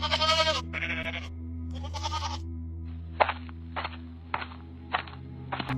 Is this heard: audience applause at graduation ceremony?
no